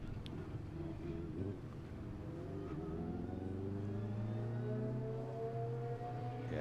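A racing car heading up to the final corner of the circuit, its engine droning steadily with a gradual rising pitch as it accelerates, a continuous moderately loud tone heard alone.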